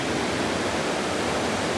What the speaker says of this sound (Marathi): वरतूनच पाणी जातंय